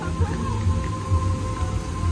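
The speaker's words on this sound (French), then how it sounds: "Il vient juste de se mettre à pleuvoir là maintenant" Fresh rain just beginning to fall in Barcelona, a faint patter over a low rumbling outdoor background, with no clear speech.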